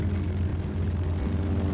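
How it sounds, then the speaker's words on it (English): A Japanese Aichi M6A Seiran floatplane launches from an I-400 submarine, its propeller engine droning steadily and loudly close by, alone, for a couple of seconds. "The floats attached, and the Seiran launched into the air."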